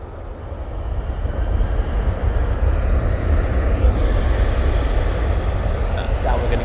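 An EasyJet airliner rolls down the runway for takeoff at Manchester Airport, a loud broad engine roar that builds and holds steady with wind rumble on the microphone.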